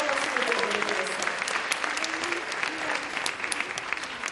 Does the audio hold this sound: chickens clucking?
no